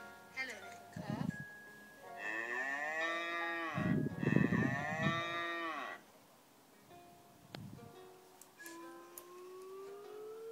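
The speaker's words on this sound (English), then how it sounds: "Hello, little calf." A calf moos in the Baby Touch iPad game. Drawn-out, cartoonish farm-animal lowing sounds twice in close succession mid-clip, loud and near. Brief narrator speech and soft electronic chimes come before and after.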